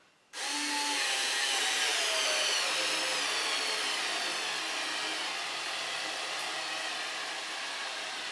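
A Ryobi 4V cordless screwdriver starts abruptly and whirs steadily, close and loud, as it drives a 2.5 inch screw into wood. The motor pitch drops slightly under load and the sound continues to the end.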